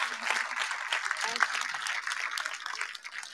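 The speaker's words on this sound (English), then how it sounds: "Can we give another round of applause, please?" A crowd at a nursing pinning ceremony applauds, a dense steady clapping that fills the room and continues for several seconds before tapering slightly.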